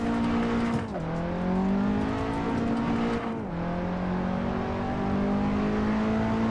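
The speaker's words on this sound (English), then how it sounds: "That sound you're hearing is there's dirt on the road." A racing game car's engine drones steadily with pitch dips as it shifts, accompanied by a continuous gritty rumble of tires on dirt on the road.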